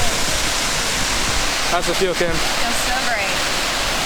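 Waterfall at Ricketts Glen State Park on an overcast day, a loud, steady broadband rush that fills the whole clip, with two people briefly talking over it.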